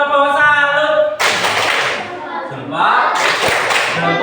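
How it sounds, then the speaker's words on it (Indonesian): Classroom students give a group clapping cheer for the first group, a burst of dense applause-like claps and thumps that fades, then swells again, with a teacher's voice at the start. "Beri tepuk salut untuk kelompok satu."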